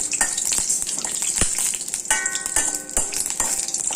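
Whole spices including bay leaf and star anise crackle and sizzle loudly in hot oil while being tempered for a mutton bone gravy with chana, potato and brinjal, with a few sharp pops and spoon scrapes against the pan.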